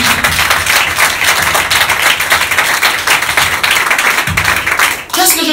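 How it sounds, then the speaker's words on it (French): A church congregation applauding, dense continuous clapping filling the space at high volume, with a few voices mixed in before it thins out at the end. "Acclamez pour le Seigneur."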